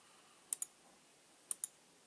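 A computer mouse clicked twice in quick succession, then after a second's pause another sharp double click, crisp and close against a quiet background.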